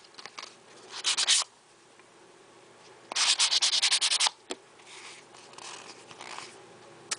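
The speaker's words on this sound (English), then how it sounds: "I'm going to take my sanding tool one more time and just go over it" Scratchy strokes of a sanding tool rasp over clay in two main bursts with quieter rubbing between, close by and without talk.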